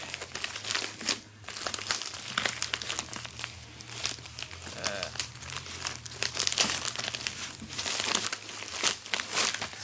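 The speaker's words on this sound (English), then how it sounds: "Just gonna tear the tape here." Packing tape tears and cheap plastic packaging for a 5 in 1 photography reflector crinkles and crunches in close, continuous bursts, with a voice speaking now and then.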